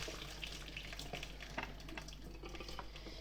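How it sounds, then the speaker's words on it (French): Water pours steadily from a pot of cooked pasta into a sink as it drains, a continuous splashing rush close by, with light clinks and no talking. "Vous retirez toute l'eau et vous laissez que les pâtes."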